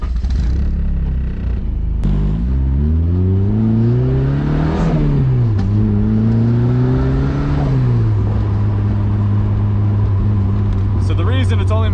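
A turbocharged K-series-swapped Mazda Miata on a dyno revs up under boost, its loud engine note climbing and falling in pitch across several pulls with a rising turbo whine, close and sustained; a voice speaks beneath the roar.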